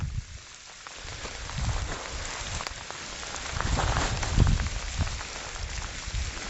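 Rain falls steadily on a surface nearby, a constant hiss with swelling gusts of heavier drops.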